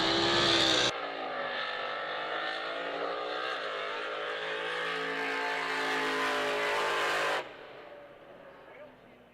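A loud drag racing boat engine roars steadily for several seconds during a run, a dense high-pitched drone, then cuts off abruptly, leaving a quieter rumble behind.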